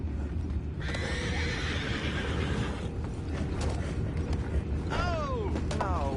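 Horses in Red Dead Redemption 2 whinny and snort over steady hoof clops and creaking tack, with a loud rising-falling neigh near the end, all under a constant low rumble of game ambience.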